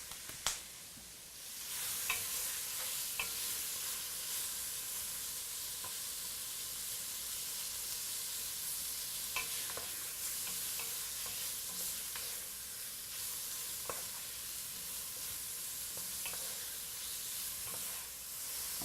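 Beef chunks for stew sear in a hot pan with a steady bright sizzle and hiss throughout, broken by occasional scrapes and stirring clicks, close and without talk.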